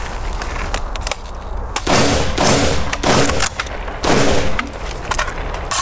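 Rifle shots at a shooting range with a retro rifle setup, several loud, close, booming blasts fired at roughly one-second intervals, each trailing off with echo.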